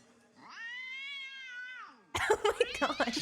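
A person mimics a cat's meow with a long, drawn-out tonal cry, then breaks into louder, rougher vocal sounds.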